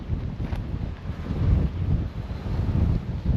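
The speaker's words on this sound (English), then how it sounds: "my bucket keeps blowing away. It's so windy." Strong gusty wind buffets a microphone outdoors in an open field during soil sampling, a steady low rumble swelling and easing in loud waves with no voices.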